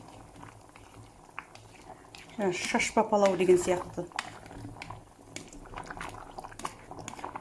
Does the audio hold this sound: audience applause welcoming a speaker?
no